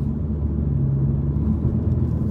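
Tuned 2020 Honda Civic FK car engine with a stock-style factory exhaust, running as a steady low rumble and droning hum close by, even and smooth throughout, with no voices.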